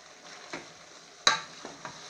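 Vegetables with pepper being stirred in a frying pan: a soft continuous sizzle broken by several scraping stirs, one sharper clatter near the middle, all close and fairly quiet with no voices.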